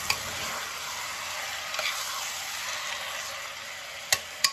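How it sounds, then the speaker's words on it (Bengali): Goat meat curry sautéing in a pan, a steady close sizzle and frying hiss with a few sharp clicks of a utensil against the pan near the end. "এবারে ভালো করে কষা"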